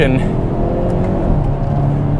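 The exhaust of a 2022 Hyundai Kona N in sport mode gives a steady, loud engine drone heard from inside the cabin, holding an even note with no sharp revs throughout.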